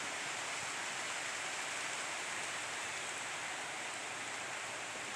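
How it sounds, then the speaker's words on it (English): Steady rain shower falling outdoors near a bush as the sky darkens, a dense even hiss that stays constant and moderately quiet throughout with no voices. "Might be able to see it raining."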